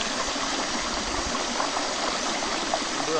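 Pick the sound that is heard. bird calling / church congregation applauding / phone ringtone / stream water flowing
stream water flowing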